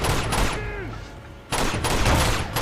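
Gunfire in the Uncharted 2 video game, loud bursts of rapid shots that break off into a short lull with a brief tonal whine before the firing resumes heavily.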